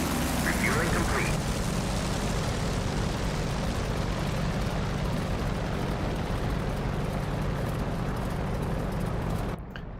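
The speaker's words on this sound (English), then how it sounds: "that Corsair engine sounds mean" Corsair propeller aircraft taking off in the flight simulator DCS, a loud continuous engine roar with a broad rushing drone that holds steady, then cuts off abruptly at the very end.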